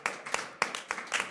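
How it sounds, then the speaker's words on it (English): Brief applause from an audience at a presentation event, a handful of scattered hand claps at close range, fairly quiet and short. "So thanks to Group Lightbulb, a big applause."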